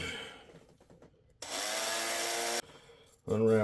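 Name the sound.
drilling a hole in an HO scale model railway layout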